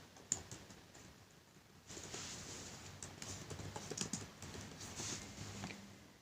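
Computer keyboard typing with clustered clicks and short bursts of keystrokes, fairly faint and close, with no talk.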